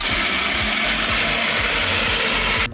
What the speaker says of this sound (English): Unfortunately, there's a bit of a noise on the gearbox.